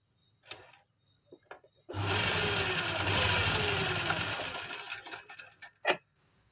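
Sewing machine running in a loud steady whir for about four seconds, stitching a pocket onto an elastic palazzo, with a few handling taps before it and after it, close up.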